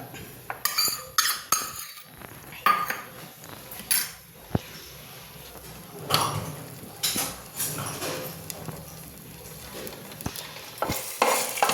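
A spoonful of ginger garlic paste goes into heated oil for a paneer masala curry, with irregular bursts of sizzling, metal spoon scrapes and clanks against the pan, loud and close.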